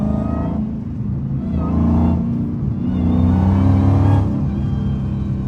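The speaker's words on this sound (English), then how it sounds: "Car sound very, very, very good in this cold ass weather." Catless Dodge Hellcat engine revving in cold weather, a deep loud rumble that swells in two or three throttle blips over a steady idle, close by with no talk.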